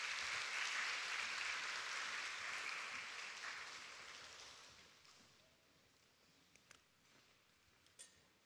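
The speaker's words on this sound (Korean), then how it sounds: "박수해 주세요" A church congregation applauds during a worship service, a dense wash of clapping that starts loud and gradually fades away over several seconds, leaving a few scattered claps near the end.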